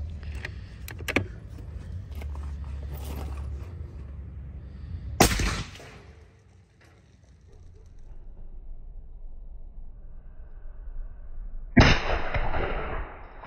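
McMillan Tech 50 rifle fitted with an Elite Iron suppressor firing outdoors, two heavy muffled shots several seconds apart, each a sharp loud burst with a short rumbling tail over wind noise.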